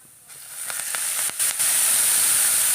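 Bean pods roasting in a little oil in a pan give a broadband sizzle that starts fairly quiet, then swells and settles into a steady loud hiss, with a few faint clicks early on and no talking.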